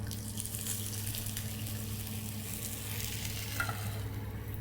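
Gyoza dumplings caramelizing in a hot pan give a soft, continuous sizzle as water is poured in, with a faint watery hiss rising and falling. Quiet, with no talking.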